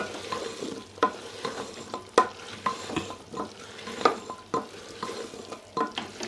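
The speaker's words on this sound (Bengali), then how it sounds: "এটাকে আরও একবার ভালো করে মিশিয়ে নেব" A chickpea mixture with green chillies and coriander leaves is stirred in a pan, a close, soft series of repeated scrapes and knocks of a spoon at an uneven rhythm over faint sizzling, with no talking.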